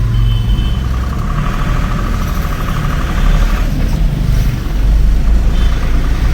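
Heavy road traffic on a main road in Chennai, a loud steady rumble of cars and trucks passing close by, continuous with engine drone and no clear talk.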